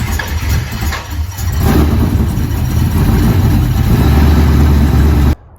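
A car engine cranks and fires up, then settles into a loud, steady rumbling idle close by before cutting off abruptly.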